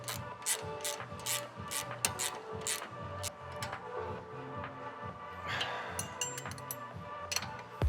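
A bolt on a BMW M3 Touring G81 rear control arm being tightened, a quick rhythmic clicking ratchet repeating in short runs, fairly close but soft, over a low mechanical background hum.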